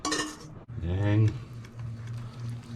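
Lemon yoghurt cake batter is stirred by hand in a bowl, a utensil scraping and clinking briefly against the bowl with a soft wet churn, after a short spoken phrase.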